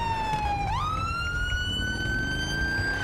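A police car siren in GTA 5 wails continuously, sliding down then rising into a long sustained tone, over a steady engine rumble.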